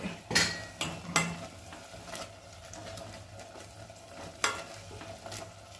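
Tomatoes sautéing in a pot, with a gentle sizzle running throughout and a few sharp clanks of a spoon scraping and tapping the metal as they are stirred, close and moderately loud.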